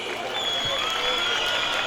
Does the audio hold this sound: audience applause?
yes